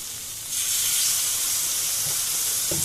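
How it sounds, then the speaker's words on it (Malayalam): Vinegar hits a hot lemon-date pickle in the pan, setting off a sudden loud hissing sizzle that stays steady and close, with a few faint clinks near the end. "ഇനി ഇതിലേക്ക് നമുക്ക് ഒരു രണ്ട് ടേബിൾ സ്പൂൺ വിനാഗിരിയും കൂടെ ഒഴിച്ചു കൊടുക്കാം"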